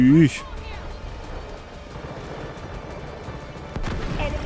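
K416 rifle fire in the first-person shooter Delta Force during a team deathmatch, appearing as dense rapid bursts under a steady din of battle, with a louder stretch near the end.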